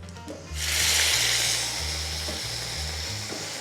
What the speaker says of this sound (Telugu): ఇది కాకరకాయలను తీసి దీంట్లో ఫ్రై చేసేసుకుందాం